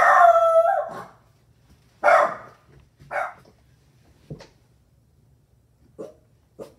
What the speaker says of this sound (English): She's just learning to bark at strangers, or family, actually.